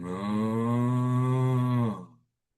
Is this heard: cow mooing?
yes